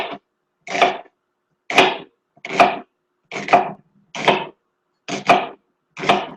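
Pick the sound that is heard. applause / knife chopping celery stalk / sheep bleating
knife chopping celery stalk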